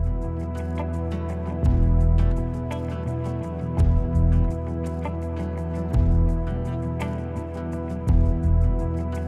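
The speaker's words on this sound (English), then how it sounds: "Let's also add a witch and her bubbling cauldron." A witch's cauldron bubbles and drips, its liquid pops swelling every couple of seconds over a dense, droning tonal bed that plays loud and steady.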